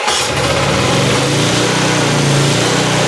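A vintage Honda generator's small engine catches and settles into a steady, buzzy running chug, loud and close, after a brief start at the very beginning.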